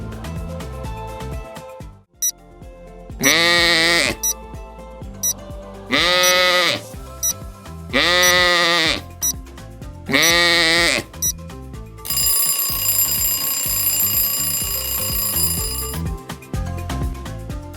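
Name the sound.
sheep bleating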